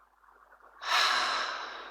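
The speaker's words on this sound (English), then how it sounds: "And just breathe." One deep, slow breath during a calm meditation, first a quiet soft inhale and then a louder, breathy exhale close to the microphone.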